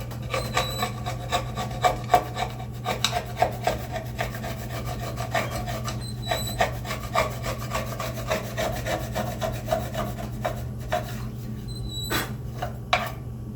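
Steady rasping strokes of a hand tool cutting a groove along a wooden spice rack piece, repeated close scrapes over a constant low hum, no talking.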